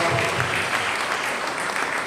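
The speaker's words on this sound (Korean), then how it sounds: "우리 뜨겁게 박수로 축복해 주시기 바랍니다" Warm, steady applause from a church congregation welcoming standing elders at a leadership inauguration ceremony, dense and continuous for its short span.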